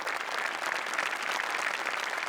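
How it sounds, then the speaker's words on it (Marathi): Steady audience applause for a comedy show's writers, a dense wash of clapping that holds at the same level from start to finish. "सचिन मोटे आणि अभिजित पवार यांच्यासाठी टाळ्या वाजल्या पाहिजेत."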